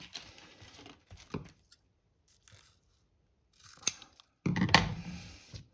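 Scissors snipping through card stock for a gilded-leaf angled gatefold card, a few close, crisp cuts with quiet gaps between them, the last snip loudest.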